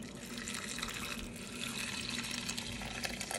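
Water pours steadily into a pressure cooker holding turmeric, oil and salt, a faint continuous splashing stream that grows slightly louder toward the end.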